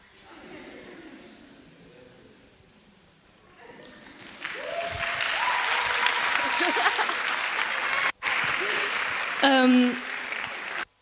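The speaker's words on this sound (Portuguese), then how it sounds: "obrigado por terem batido palmas" A seated audience at the ARTEC 32 event breaks into applause that swells to a steady, dense clapping for several seconds, then cuts off sharply, with a brief voice near the end.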